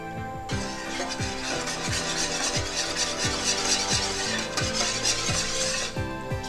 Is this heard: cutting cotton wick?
no